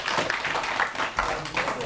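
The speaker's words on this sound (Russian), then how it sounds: "ну что, похлопаем?" A group claps hands together in a dense, continuous patter for under two seconds, with voices talking over it.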